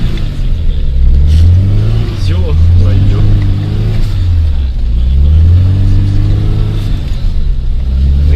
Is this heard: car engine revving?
yes